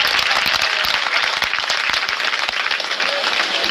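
Audience at a protest sit-in applauding after a speech, a dense, loud, continuous burst of many hands clapping close by with no voices over it.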